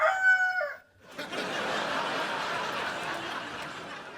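A rooster crowing sound effect in a comedy sketch, a short bright cock-a-doodle-doo lasting under a second, followed by a sustained wash of audience noise.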